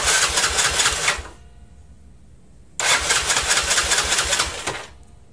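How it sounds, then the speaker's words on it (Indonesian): A motorcycle engine fires up after its pulser wires are reversed, running loud and close in two bursts of about a second and two seconds, separated by a quiet gap, with no talking over it. "Kita coba nyalakan motornya."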